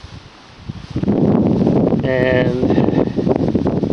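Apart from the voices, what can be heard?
strong wind gusts blowing against the camera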